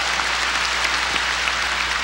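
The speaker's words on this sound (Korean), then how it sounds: "예수 그리스도가 살아계신 걸 믿으면 박수로 그분에게 영광을 돌립시다" A church congregation at a Korean worship service claps together in a thick, continuous roar of applause, loud and sustained with no clear gaps.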